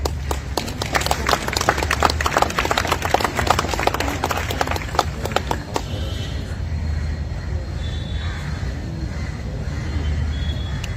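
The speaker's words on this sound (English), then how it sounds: "Let's give a good applause to her." Applause from an audience at a Goa Christian community gathering, a dense patter of clapping for about six seconds that then stops, leaving a low room hum and faint background noise.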